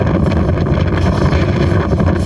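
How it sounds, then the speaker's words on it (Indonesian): Strong wind sweeps through an outdoor event site in Mamuju, West Sulawesi, toppling a main stage and dozens of small-business tents; a loud, steady, roaring buffet of wind noise fills the whole stretch with no voices. "Angin kencang tiba-tiba menyapu sejumlah tenda UMKM milik warga hingga membuat panik"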